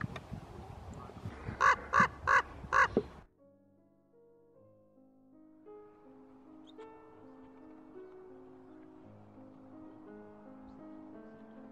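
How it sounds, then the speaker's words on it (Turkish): A large crow at Yellowstone gives four loud, harsh caws in quick succession, close by. Then a long, quiet stretch follows with faint low tones. "Bu bir karga da bu nasıl bir karga?"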